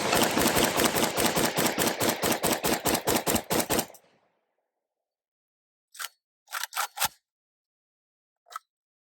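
An AK47 rifle fires a fast automatic string of about fifteen loud, sharp rounds outdoors. After a gap of silence come four more separate shots.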